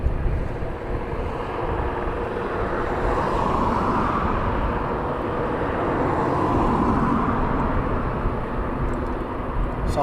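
Steady low engine rumble of a jet aircraft taxiing at East Midlands Airport at night, a continuous distant roar that swells gently and fades, with no voices.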